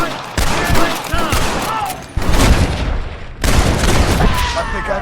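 Bursts of gunfire in Red Dead Redemption crack and boom loudly in dense volleys, with voices shouting underneath.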